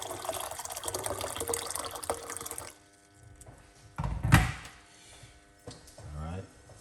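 Hot water from a kettle pours briefly into a container, a short gushing fill after some clattering and background noise.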